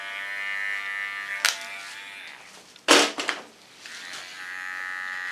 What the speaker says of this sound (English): Clean the rest of the contour with my small clipper.